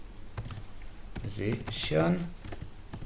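Keys tapping on a computer keyboard in a quick, light run of clicks, close by, with a person talking over the typing.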